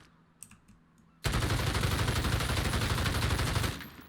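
Grau assault rifle fired from the hip in Call of Duty, one long unbroken burst of rapid automatic shots, loud and close, running about two and a half seconds after a quiet start.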